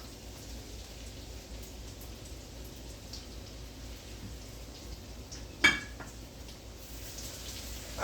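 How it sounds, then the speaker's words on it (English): Mushrooms sauteing in a pan for beef stroganoff give a steady, even sizzling hiss throughout, broken once by a brief metallic clank near the end. "while we're dropping the mushrooms in, let that saute"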